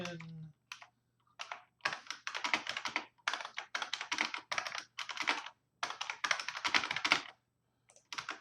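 Rapid typing on a computer keyboard during Game Boy homebrew assembly coding, with dense bursts of close, crisp key clicks broken by short pauses and no talking.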